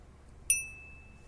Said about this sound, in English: So here's my little bell.